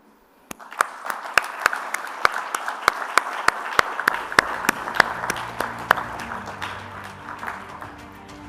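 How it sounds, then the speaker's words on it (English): At a Maritime SheEO women's conference, applause starts with a few sharp, separate claps and then swells into a steady, moderately loud ovation from the audience. "every one of you here deserves a round of applause"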